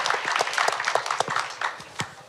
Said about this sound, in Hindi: एक बार जोरदार तालियां हो जाए अनिल जी के लिए।